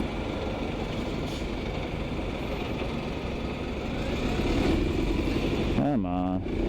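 A Honda Little Cub 50 motorbike idles in neutral with a steady, low, continuous engine drone, close by. A voice speaks briefly near the end.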